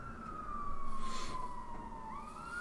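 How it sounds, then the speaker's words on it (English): An emergency vehicle siren wails outside, a single slow, falling tone heard faint and distant over a quiet background. "there's a couple of sirens going off"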